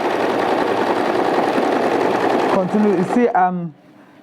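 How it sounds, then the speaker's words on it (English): A sewing machine runs steadily while stitching fabric with a neat half-inch seam, its fast, even whir filling nearly three seconds before it stops; someone then speaks briefly. "pin the middle, and start sewing"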